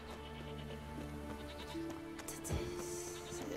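Goats bleat in The Witcher 3, with wavering, drawn-out cries repeating at moderate distance over steady game ambience, and no speech.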